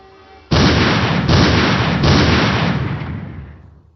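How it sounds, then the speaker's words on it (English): Three loud, booming video-game gunshot blasts in quick succession from Zero Time Dilemma, each with a heavy tail, the last one fading out over a second. "3 gunshots."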